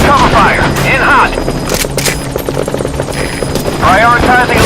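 An attack helicopter in the video game Metal Gear Solid 5 thunders with a loud, steady rotor roar while bursts of gunfire crack over it, and radio voices speak on top.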